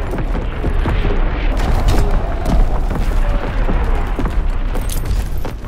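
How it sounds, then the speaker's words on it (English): Artillery strike in Call of Duty: WWII on the Ardennes Forest map, a dense barrage of loud booming blasts and crackling impacts rolling on without pause. "Incoming enemy artillery. Get to cover."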